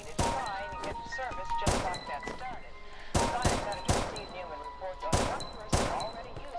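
Guns firing in a Minecraft PvP duel, with loud sharp shots in irregular bursts, some spaced and some rapid, ringing over game sounds and scattered voice.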